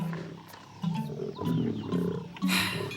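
Lions roar and growl in the wild, several deep rumbling calls overlapping at mid distance over a steady outdoor background, with a brighter burst near the end.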